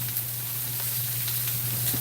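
Rice boiling in a pot on a home stove, giving a steady bubbling sizzle and hiss that stays close and even throughout, with no voices.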